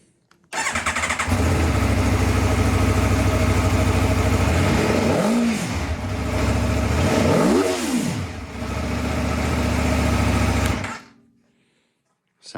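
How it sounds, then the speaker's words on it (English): A 2022 Aprilia Tuono V4 1100 motorcycle starts up close by and idles loudly, with two sharp throttle blips rising and falling before the engine cuts off. "Sounds incredible. Sounds like a true race bike."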